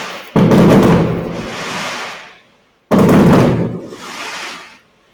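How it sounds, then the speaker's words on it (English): Two loud fireworks explosions go off down the block about two and a half seconds apart, each a sharp bang followed by a long fading rumble that echoes into near silence. "Fireworks."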